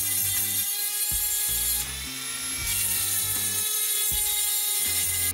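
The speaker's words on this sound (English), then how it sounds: "what we're going to do is pop over the Dremel and we're gonna extend this channel down a touch" A Dremel rotary tool extends a channel for hinge screws, its high steady whine cutting in and out in short bursts with brief pauses and a pitch drop midway, loud and close with no talk.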